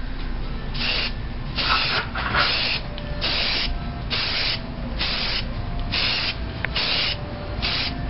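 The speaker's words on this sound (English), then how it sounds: "I'm about to spray, and when I do this, I'm going to do smooth, easy coats." A rattle-can spray paint can laying down light dusting coats, heard as a series of short hissing bursts roughly a second each, repeated with brief gaps, close and fairly loud with no talking.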